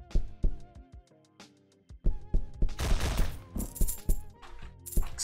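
Automatic gunfire from a machine gun in the browser battle royale game HelmetRoyale.io, with sharp separate shots at first, then a dense rattling fusillade of loud, close bursts.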